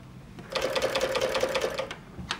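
An industrial cover stitch sewing machine with a binder stitching fabric, a short rapid burst of mechanical stitching lasting about a second and a half, close and fairly quiet, followed by a single click.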